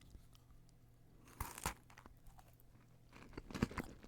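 A few crisp crunches of a Trader Joe's crunchy snack being bitten and chewed, close up, separated by quiet pauses.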